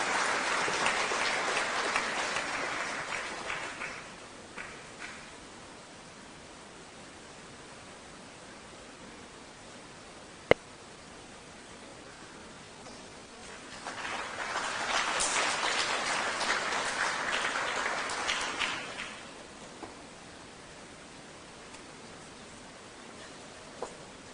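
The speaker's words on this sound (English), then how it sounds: "Can we give them a round of applause as they make their way up?" Audience at a first ladies' roundtable in Nairobi applauds in two bursts, a moderate wave of clapping at the start fading out, then a second swell of applause a bit later, heard from a distance with quiet room tone between.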